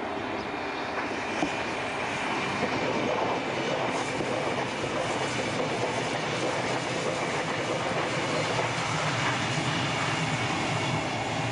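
Class 424 S-Bahn electric train running through countryside toward Hameln, a steady, loud rolling rumble with a broad hiss throughout and a few faint rail clicks.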